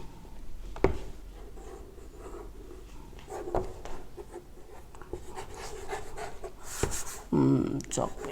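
Chalk scratching across a classroom blackboard in bursts of short strokes, with taps and clacks between them, under a steady room murmur.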